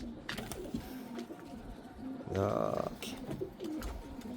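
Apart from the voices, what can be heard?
pigeons cooing on a rooftop loft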